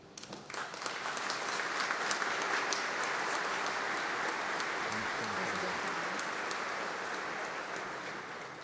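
An audience at a solemn session honouring the 80th anniversary of Brazil's FEB applauds in a sustained, even wash of clapping that holds steady, with a soft murmur of voices underneath.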